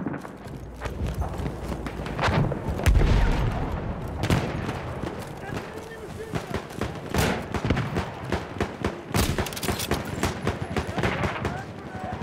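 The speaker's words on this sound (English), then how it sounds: "Machine gun! One of theirs!" Battlefield 1 conquest battle with rapid bursts of machine gun fire and gunshots cracking through a busy war soundscape, mixed with distant blasts and shouting voices across the whole stretch.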